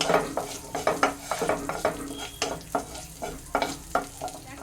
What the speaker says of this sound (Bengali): এবার এই ফোড়নটাকে আমি ভালো করে একটু ভেজে নেব